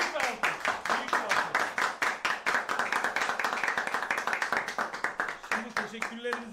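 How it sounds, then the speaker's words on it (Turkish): Applause from a live television studio audience after an orchestra performance, a dense run of fast hand claps at steady volume, with voices talking over the clapping. "Büyük bir alkış."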